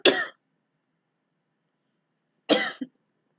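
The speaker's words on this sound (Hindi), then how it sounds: "ये खांसी तो आती रहेगी।" One person gives a short cough, then after a pause a second cough runs into a quick throat clear. Both are close and sharp against a silent background.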